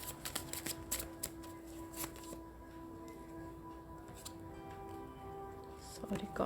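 A tarot card deck being shuffled, giving a run of quick papery riffles and flicks near at hand, with a steady hum in the background and scattered sharper taps.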